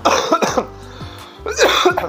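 Two sharp coughs from a man close to the microphone, the first a quick double burst and the second after a short pause, with a low hum beneath.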